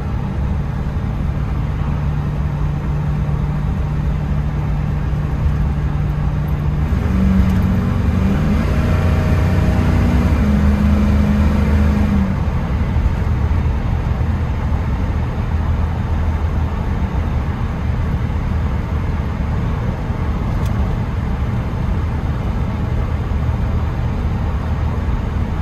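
A 1979 Chevy K10 4x4 pickup with a 400 (6.6L) V8 and Dynomax exhaust idles with a loud, steady, deep rumble throughout, and a brief tonal swell rises in the middle.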